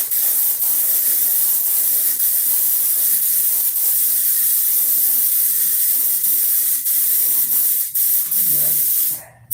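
An airbrush loaded with a full charge of paint sprays in a continuous close hiss for several seconds, with faint clicks along the way, before the spray cuts off abruptly at the end.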